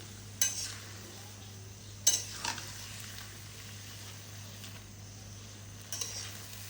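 Spice masala frying in a pan with lata shutki, dried fish cooked with taro stolons. A utensil knocks and scrapes a few times over a faint, steady background, heard up close and quietly.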